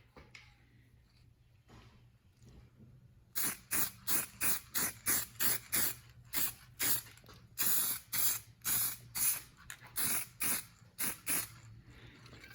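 Wax and grease remover sprayed onto molded plastic automotive parts in about sixteen short, loud aerosol bursts in quick rhythmic succession, after a quiet stretch of room noise.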